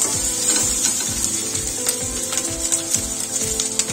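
Ginger-garlic paste sizzles and fries in a hot pan while a spatula scrapes and stirs it in steady rhythmic strokes, loud and close.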